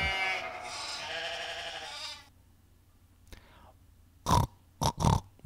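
A sheep bleats in a children's farm-animal story: one long, wavering bleat is followed by near silence, then several short, loud bursts.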